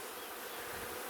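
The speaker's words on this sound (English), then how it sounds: "There's a lot of bees in here." Dense, steady buzzing of many honey bees inside a strong hive that is building toward swarming, a close, continuous hum with no voices.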